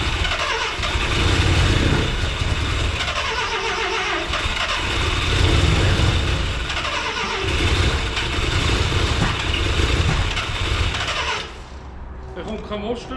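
A small engine turns over and runs with a steady, rough mechanical drone for most of the stretch, close by, while people talk over it, before the noise drops away near the end.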